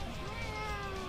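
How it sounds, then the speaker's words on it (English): A house cat gives one drawn-out, tonal meow, close and clear, lasting about a second with no other sound around it. "Kitty?"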